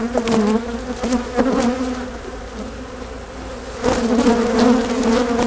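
Honey bees swarm loudly around an opened over-wintered hive during a brood inspection, a dense steady buzz that rises and falls with bursts of louder wingbeats, close and continuous throughout.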